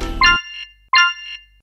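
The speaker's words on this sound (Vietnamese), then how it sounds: "Một lần nhấn chuông ngoài quy định." A game show answer bell is pressed twice and gives two bright, ringing dings about half a second apart, each fading away cleanly with no talk.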